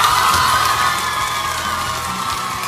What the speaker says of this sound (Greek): Δώστε του ένα χειροκρότημα.